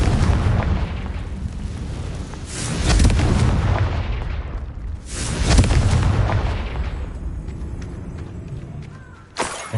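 Repeated spell explosions from Confringo in the video game Hogwarts Legacy: heavy booming blasts that swell and roll off, with two big bursts and a sharp crack near the end.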